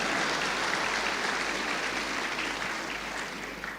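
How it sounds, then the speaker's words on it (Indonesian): Church congregation applauds during a sermon, a steady wash of many hands clapping that fades slightly toward the end, with no speech over it. "tepuk tangan, betul tepuk tangan."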